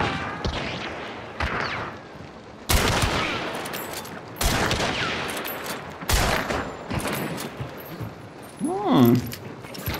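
Gunfire in a bounty-hunt video game: several sharp, loud shots land at irregular intervals, each with a short trailing decay, followed near the end by a brief rising electronic whine, with no talking.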